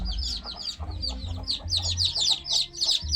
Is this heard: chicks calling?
yes